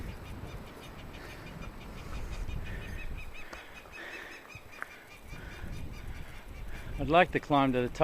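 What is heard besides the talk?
birds calling and honking on an island climb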